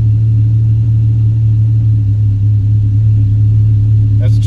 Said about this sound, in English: That's just idling down.